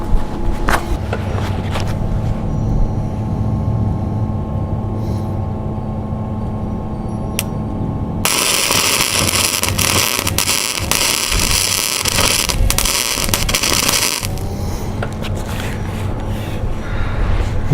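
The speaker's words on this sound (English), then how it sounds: "We're ready to give it a shot here with the welder." An electric welder tack-welds steel for a barrel grill, a loud harsh crackling buzz lasting several seconds over a constant background hum.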